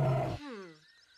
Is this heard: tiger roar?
yes